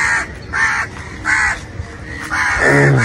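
A crow caws four times in an even, spaced rhythm, loud and close, with a final drawn-out harsher call in a morning urban setting.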